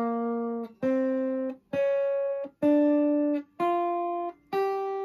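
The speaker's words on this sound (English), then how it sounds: "The G blues scale is coming up here." A jazz guitar plays the G blues scale in single clean notes, six of them, each sustained about a second with a short gap before the next. The notes are clear and close, and nothing else is heard.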